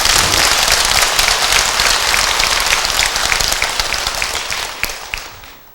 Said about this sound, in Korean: 박수 한번 보내드리세요.